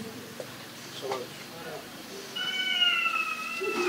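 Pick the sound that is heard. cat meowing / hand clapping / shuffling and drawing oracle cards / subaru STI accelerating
cat meowing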